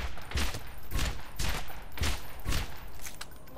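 Rapid bursts of automatic gunfire from the first-person shooter Borderlands, loud and dense, coming in repeated volleys about every half second with no pause or speech.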